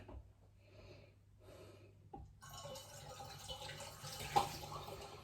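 Cider pouring steadily into a glass demijohn, a soft gurgling rush that starts after a quiet moment and continues with a hollow, bubbling tone.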